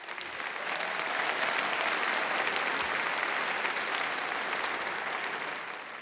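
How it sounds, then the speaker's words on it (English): Audience applause at a high school graduation ceremony, a dense, steady wash of clapping filling a large space, sustained evenly throughout before easing slightly at the end. "Let's give them a round of applause."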